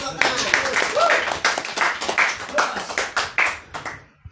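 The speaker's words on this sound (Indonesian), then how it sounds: "Tepuk tangan." An audience at a religious talk claps in a burst of quick, uneven hand claps lasting a few seconds, fairly close, with voices mixed in before it fades out.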